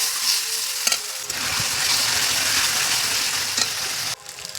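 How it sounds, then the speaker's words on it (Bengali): Chicken with onion and tomato is stirred and fried in a pan for chicken kosha, a close, continuous loud sizzle with scraping stirs and a couple of sharp clinks, then the sizzle drops abruptly near the end. "চিকেন দিয়ে ভালো করে নেড়ে চেড়ে কষাতে থাকবে।"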